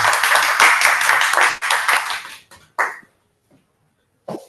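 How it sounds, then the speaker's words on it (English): A Toastmasters club audience applauds in a dense burst that stops abruptly, followed by a few stray claps and near silence, then one brief sound at the very end. "let's big round of applause for Toastmaster Vivek"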